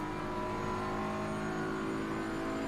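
GT race cars in Assetto Corsa Competizione drone steadily at a race-track chicane, with engines humming and whirring continuously, one car running in another's slipstream; the sound is quiet and distant and holds one even tone throughout.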